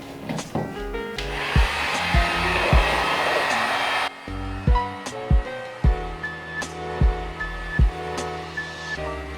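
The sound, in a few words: heat gun warming trunk panel and spoiler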